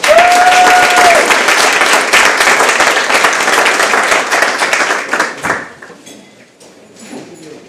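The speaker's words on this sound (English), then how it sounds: "Give a round of applause" An audience at a panel event breaks into loud, sustained applause for the next panelist, dense clapping filling the room before tapering off to scattered claps and quiet.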